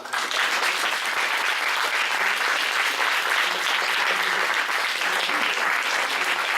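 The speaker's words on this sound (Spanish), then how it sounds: "vamos a darle un aplauso a..." Sustained applause from a lecture audience at a university talk, a dense, steady wash of many hands clapping that fills the whole stretch at an even, fairly loud level with no talking over it.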